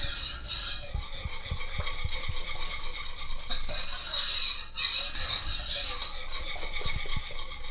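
Chocolate pie filling stirred in a pot on the stove, with a steady scraping swirl and soft utensil clinks against the pan, close and continuous with faint sizzling underneath.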